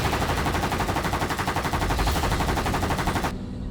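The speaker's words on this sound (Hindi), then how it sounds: "ये पटाखों की आवाज नहीं, कोई गोली बरसा रहा है।" Rapid, continuous machine gun fire rattles out near an old disused guard office in a crime drama, a dense, loud burst lasting over three seconds before cutting off abruptly.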